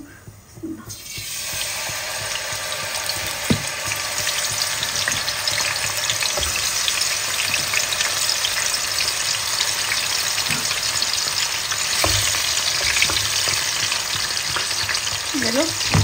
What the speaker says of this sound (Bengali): ফ্রাই প্যানটা গরম করে নিয়েছি মাছ ভাজির জন্য